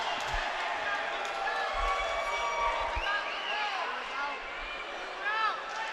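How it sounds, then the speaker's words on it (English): Excited crowd noise and shouting fill a cage-fighting event at Cage Wars 34 between rounds, with a steady dense roar, some sharp thuds and talk mixed in throughout. "As you hear the crowd getting excited and screaming"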